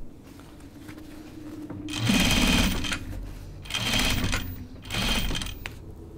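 A sewing machine runs heavy topstitching thread around a jacket in three loud, close bursts of rapid stitching, each lasting about a second, separated by brief pauses of quiet hum.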